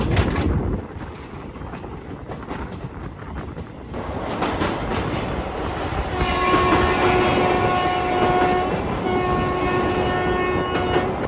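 A Kachiguda–Kottayam special passenger train running near the Kaveri river on the Erode Junction route: a steady loud rolling rumble that grows fuller, then sustained tonal squeal or horn-like notes over the rumble in the second half, with no voices.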